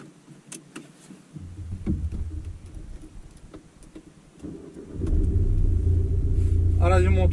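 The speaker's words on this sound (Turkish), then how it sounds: "Aracın motor sesi gayet güzel. Hoş bir motor sesi var araçta." A Skoda Yeti 1.6 TDI diesel with a manual gearbox, heard from inside while driving. A low engine rumble swells, then settles into a louder, steady drone, and a voice briefly comes in near the end.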